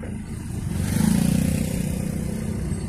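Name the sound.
vehicle passing on tar road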